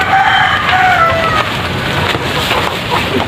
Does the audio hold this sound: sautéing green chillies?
no